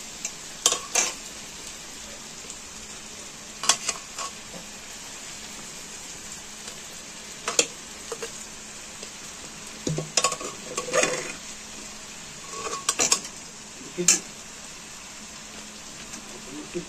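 Rice goes into a hot pan on a home stove and is stirred. A low sizzle runs throughout, broken by sharp, irregular scrapes and clinks of the spoon against the pan, with no talking.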